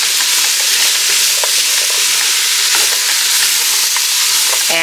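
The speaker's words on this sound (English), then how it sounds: "saute things up first" Tomatoes and vegetables sauté in a pan for minestrone soup, making a loud, dense, continuous sizzle broken by light crackles and pops from stirring.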